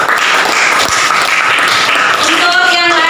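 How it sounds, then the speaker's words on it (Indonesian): Group applause in an Indonesian classroom honouring the second team, a dense steady wash of many hands clapping throughout, with a faint tonal hum rising near the end. "kita tepuk tangan untuk kelompok 2"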